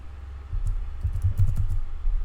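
Typing on a computer keyboard during a Minecraft session: a quick run of soft, close key clicks in an uneven burst, fairly quiet, with no talking.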